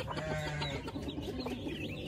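Hens and chicks cluck softly nearby on a farm, a low, continuous patter of short clucks and faint peeps.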